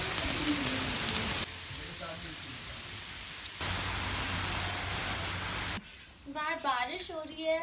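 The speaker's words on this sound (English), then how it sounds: "बाहर बारिश हो रही है" Rain pours outside a cottage, a dense hiss of falling water in alternating louder and softer stretches, giving way near the end to people talking.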